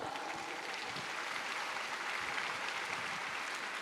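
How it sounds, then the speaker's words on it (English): An audience at an international youth kindness conference claps as a guest comes onto the stage, making a dense, even roar of applause that holds steady throughout. "let's give him a round of applause."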